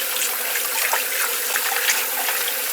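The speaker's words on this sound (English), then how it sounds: "So this is the best way to wash your livers" Tap water running steadily over raw chicken livers as they are washed in a kitchen sink, a constant close splashing hiss with no talk.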